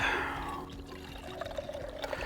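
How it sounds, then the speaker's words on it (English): Water pours steadily into a camping cook pot, a continuous close splashing trickle that gradually deepens in tone as the pot fills, with no speech. "first thing I'm going to do is add 20 ounces of water to my pot."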